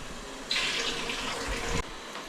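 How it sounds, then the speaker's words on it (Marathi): Water pours off soaked rice being prepared for chicken biryani in one steady, close gush lasting just over a second, then stops abruptly. "इथे मी तांदूळ टाकते पाणी पहिला काढते भातातला तांदळातला"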